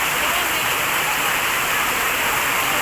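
Heavy rain pours in a dense, steady, loud hiss with no breaks, close and constant throughout.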